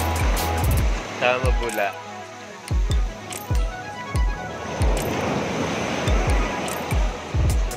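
Surf rushes and rumbles close by in repeated surges, with people talking over it.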